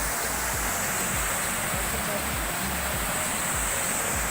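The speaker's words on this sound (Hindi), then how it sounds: "बहुत तेज पानी है" Fast-flowing mountain river in Swat, a loud, continuous rushing roar of water that fills the whole clip.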